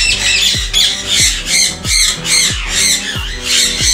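Ringneck parrots in a breeding setup give about seven loud, harsh squawks in a steady repeating rhythm, close and piercing with a shrill edge.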